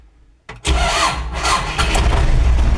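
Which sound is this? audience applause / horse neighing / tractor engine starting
tractor engine starting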